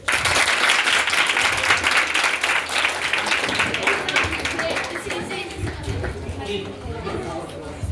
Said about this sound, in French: Doussouba, applaudissez.